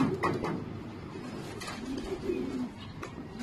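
Pigeons during racing pigeon training give soft, low throaty coos in short repeated phrases, close by, over a light background murmur.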